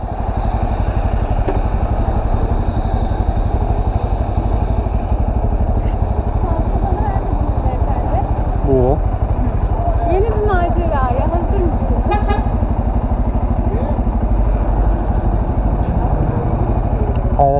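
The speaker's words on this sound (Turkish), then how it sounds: "E, motoru çalıştırabiliyorum." A Bajaj Pulsar N250 motorcycle engine idles loudly and steadily up close after starting, with a horn toot and people talking over it.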